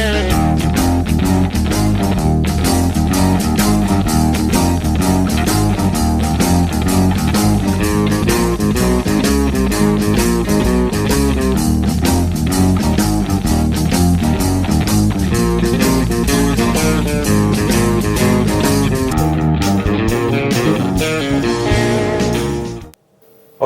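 A full band plays a steady, driving blues riff with electric guitar over bass and drums, loud and continuous, ending abruptly near the close.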